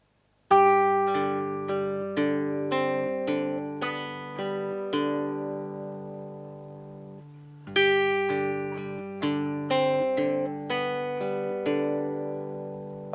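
Guitar plays a slow passage on strings two to four, single plucked notes ringing over a sustained low tone, a short pause midway before the phrase repeats; no talking.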